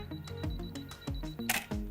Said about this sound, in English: you simply just hold the shutter button to take the first photograph